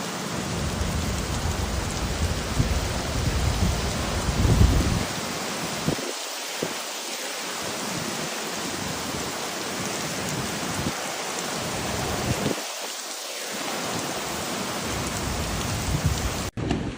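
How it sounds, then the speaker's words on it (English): Torrential rain from Hurricane Helene pours steadily in Mexico, a dense, loud hiss of drops on surfaces, with low rumbling gusts swelling briefly a few times and no voices. "torrential rain began to fall and high winds blew"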